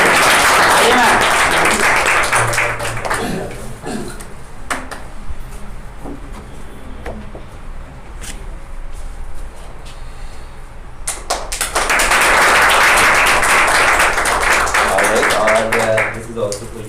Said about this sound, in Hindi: तो दैट्स मिसेस लता जोशी, एक बार जोरदार तालियों के लिए।